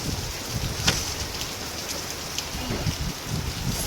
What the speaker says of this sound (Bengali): কি জোরে বৃষ্টি হচ্ছে আর কি হাওয়া দিচ্ছে